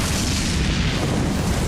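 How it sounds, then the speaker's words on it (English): A dense, rumbling video game spell explosion hitting an enemy fills the clip, loud and sustained with heavy low-end boom and a wash of crackling noise. "These spells play a different sound effect if they hit an enemy."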